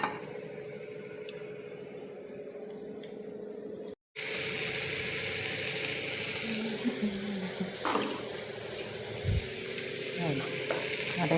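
Shev bhaji with coriander being sautéed in a pan: after a brief quiet gap, a continuous close sizzle starts, with intermittent scrapes and clinks of a spoon stirring, and no speech.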